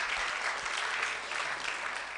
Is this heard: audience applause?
yes